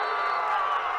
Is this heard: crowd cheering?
yes